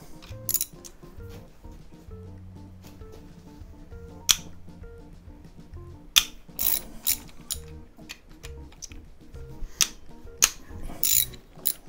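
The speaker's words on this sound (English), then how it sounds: "So we have to undo the two bearing caps here, plus three bolts that hold on the actuator." Clicking ratchet wrench undoing bolts on the camshaft bearing caps of a Porsche engine, with rapid pawl ticks in bursts and sharp metallic clanks of the tool, close up in a quiet workshop.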